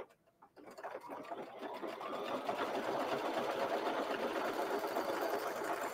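A sewing machine stitches a triple-stitch tack-down line for an appliqué quilt block, starting after a brief pause and then running in a steady, rapid whir close by.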